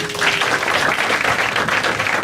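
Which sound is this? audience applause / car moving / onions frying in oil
audience applause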